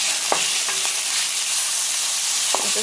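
Onions and oyster sauce stir-frying for chow mein with beef, a loud continuous sizzle with a few scrapes of a stirring utensil against the pan.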